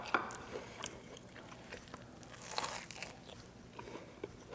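Biting into crunchy pickle-brined deep fried baby back ribs, a couple of faint close crunches followed by soft chewing, quiet and without talk.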